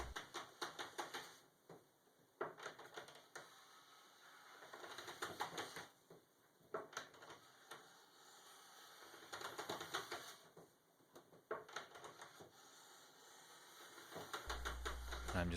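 Smoothing plane shaving a rived wood board, repeated back-and-forth strokes each giving a crisp rasping hiss that stops and starts in regular passes of a few seconds, close and fairly quiet.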